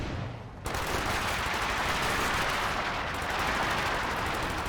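An artillery base barrage in Company of Heroes 2 roars as a loud, dense, continuous rumble of overlapping blasts and gunfire, starting abruptly after a brief quieter lead-in and holding steady to the end.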